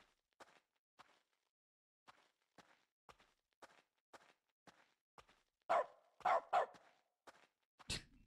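In dog mode of The Stanley Parable: Ultra Deluxe, soft footsteps tap at an irregular walking pace against near silence, then a few louder barks and yaps break in close together before the end.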